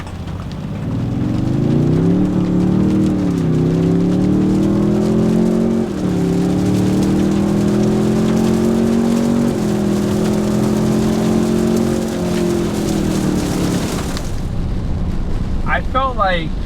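A Toyota Tundra hybrid with a twin-turbo V6 accelerates hard on a rain-soaked road, its engine drone rising and stepping through gear changes for about fourteen seconds before cutting off abruptly, heard from inside the cab.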